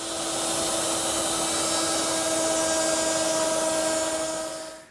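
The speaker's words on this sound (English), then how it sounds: "I want to round 3 edges at the router table" Router table rounding the edges of 3/8 inch wood stock, a steady high whine with a rushing cutting roar, swelling in and fading out over a few seconds.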